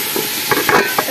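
Tomato, onion and chilies fry in a pan, a close crackling sizzle broken by a few quick stirring scrapes over about a second.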